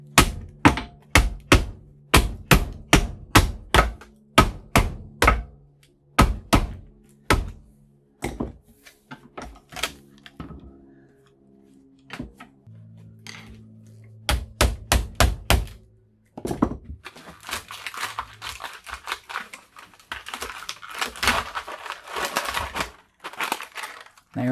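Sharp metallic thunks and clatters ring out as an aluminum coil is pulled from a box of scrap, a quick run of loud knocks first, then sparser bumps and a rustling scrape near the end.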